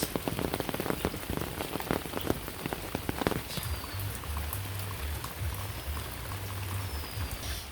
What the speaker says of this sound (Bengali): বর্তমানে বৃষ্টিটা একটু কমছে